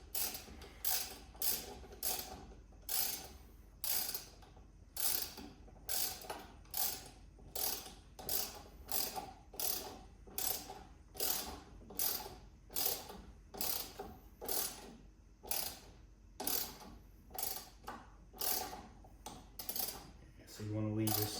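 Mounting bolts on a Hansshow 52-inch LED light bar for a Tesla Cybertruck being tightened with a ratchet, giving a long run of rhythmic clicking bursts, close and crisp, pausing briefly between strokes, with no speech.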